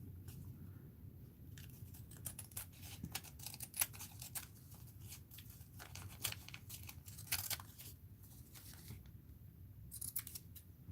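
Scissors snipping paper scraps at close range, a long run of crisp blade cuts in irregular bursts with brief pauses and light paper rustle.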